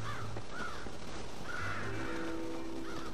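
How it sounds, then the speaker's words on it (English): Crows cawing in the Western video game Red Dead Redemption, several harsh calls spread over a steady outdoor ambience with a low hum, moderately loud and unaccompanied by talk. "Damn crows!"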